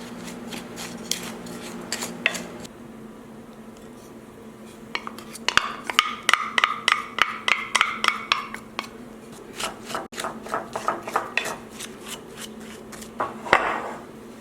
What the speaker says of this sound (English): we're gonna stir all of those things together until they kind of form a nice crumbly texture